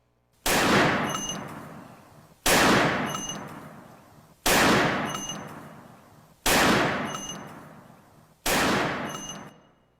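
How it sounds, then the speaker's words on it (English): Five evenly spaced gunshots from a semi-automatic weapon ring out about two seconds apart, each a sharp loud crack that trails off in a long echoing decay. "you're going to hear a series of gunfire."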